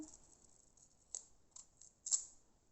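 Scissors cutting a strip of paper for a handmade card, a few faint, crisp snips spaced about half a second apart in a quiet room.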